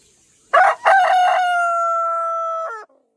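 A rooster crows once, close and loud, a long drawn-out cock-a-doodle-doo standing alone with no other sounds around it.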